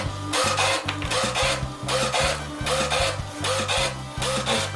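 A Cab A4+M label printer with a perforation cutter attachment prints and cuts a run of sleeves, giving a steady, close mechanical rasping in repeated short bursts with regular pauses.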